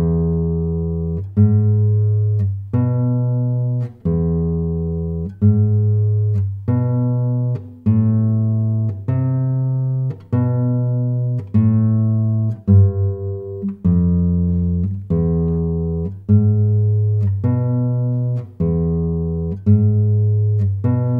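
A slow, steady classical guitar rendition of La Malagueña, with plucked notes and chords ringing out in a regular rhythm, close and clear, with no talking.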